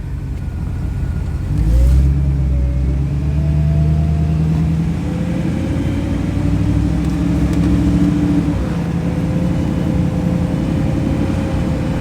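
An Icon Derelict rat rod's engine revs up and accelerates, its pitch rising and shifting through gears, loud and close, with steady road noise underneath.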